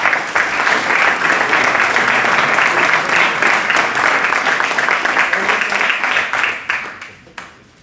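Sustained applause for graduates at a vocational diploma ceremony, a hall full of clapping hands going steadily and then thinning out and fading near the end.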